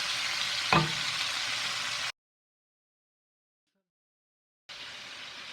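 Vegetables frying and slowly wilting in a pan before onions go in, a steady soft broadband sizzle with one brief clatter, cut off by a few seconds of silence before the sizzle returns.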